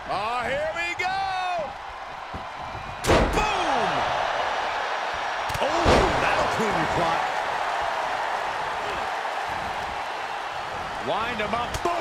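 At a televised tag team championship wrestling match, a heavy thud of a body hitting the ring mat cuts through steady crowd roar, with a second impact a few seconds later and a commentator talking throughout.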